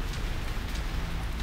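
Pouring rain in the Mechwarrior 5 video game, a steady dense hiss of downpour with a low rumbling bed, continuous and even throughout with no voices.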